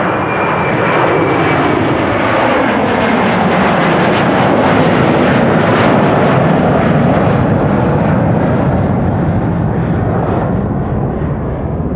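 A Delta Airlines jet airliner at Amsterdam Schiphol passes close and loud, its engines building to a sweeping roar that swells mid-way and slowly eases off.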